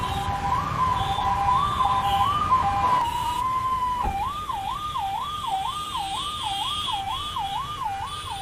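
An ambulance siren wails close and steady, first in a slower rising-and-falling tone, then switching to a faster warble for the rest.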